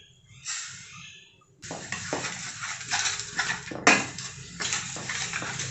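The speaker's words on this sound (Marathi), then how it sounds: "याच्यामध्ये आपण तिळ अर्धी वाटी टाकून घेऊयात" Half a bowl of sesame seeds pours into a bowl of batter with a soft, steady rustling hiss, nearby and fairly quiet.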